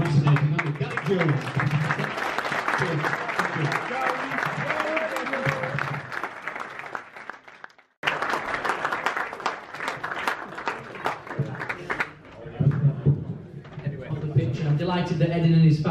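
Audience applause at a football club event, ongoing clapping under a speaker's amplified voice, briefly cutting out midway, then resuming with talk over it.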